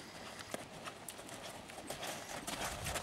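Horse hooves during a canter in a schooling session with lateral work, giving soft, faint repeated hoofbeats in an uneven rhythm over steady background noise, with no talk.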